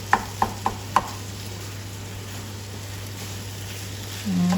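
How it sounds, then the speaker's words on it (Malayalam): Chicken thoran is stirred and broken up in a pan, with four sharp knocks of the spoon against the pan early on, then a quiet hiss and a low steady hum. "അപ്പോൾ ഞാനിങ്ങനെ ഇടയ്ക്ക് ഇങ്ങനെ ഇളക്കി കൊടുക്കുമ്പോൾ വലിയ കഷ്ണങ്ങളൊക്കെ ഉണ്ടെങ്കിൽ ഉടച്ചിട്ട് കൊടുക്കുന്നുണ്ട്"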